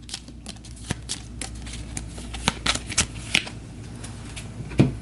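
A deck of cards for the Astro Knights board game is shuffled up close, with sharp riffling bursts and soft slides repeating irregularly, no talk over them.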